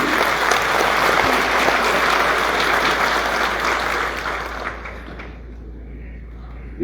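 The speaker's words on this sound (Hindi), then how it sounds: "एक जोर से ताली हो जाएगी।" A large audience gives loud, sustained applause at a university convocation ceremony in Uttarakhand. The clapping continues for several seconds, then fades out quickly and leaves a quiet hall.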